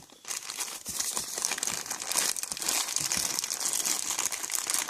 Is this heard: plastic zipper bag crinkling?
yes